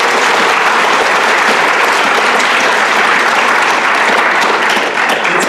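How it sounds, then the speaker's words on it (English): Loud, dense applause from the audience at a school academic awards ceremony, a sustained roar of many hands clapping at full strength for several seconds with no speech. "So let's give all those parents a round of applause."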